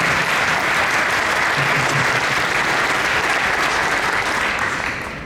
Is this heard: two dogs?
no